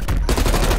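Rapid gunfire from Call of Duty: Black Ops Cold War, with dense, loud bursts that continue without a break through a short stretch of game action.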